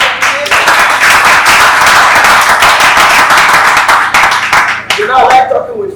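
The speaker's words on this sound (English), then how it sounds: "Please, let's clap for the entrepreneur." An audience applauds an entrepreneur at a talk show, with dense sustained clapping that stays loud and steady throughout, thinning slightly near the end where a voice briefly comes through.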